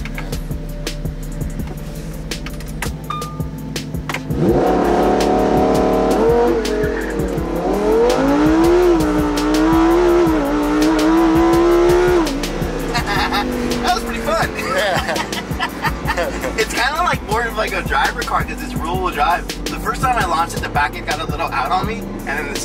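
A low-mileage car with electronic stability control and traction control switched off launches hard, its engine revving up in a loud, rising whine through the gears, then settling into rough, choppy running, with people talking over it.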